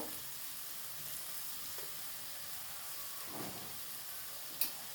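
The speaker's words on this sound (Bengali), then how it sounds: "মশলাটা ভালোভাবে কষিয়ে নেবো" Spices for a crab curry sauté in a pan with a soft, steady frying hiss, a few faint stirring scrapes, and one brief clink near the end; quiet and without talk.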